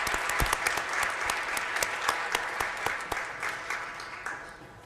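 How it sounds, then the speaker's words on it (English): Steady applause fills a school board of education meeting, many hands clapping densely and evenly for the full length with a slight fade toward the end, no talking over it. "Let's give another round of applause."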